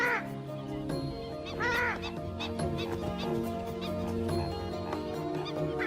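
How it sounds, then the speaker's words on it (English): A purple swamphen in the wild giving loud, explosive honking calls in repeated bursts, mixed with other bird sounds in the background. "This is the purple swamp hen, also called the sultana bird, famed for its very loud,"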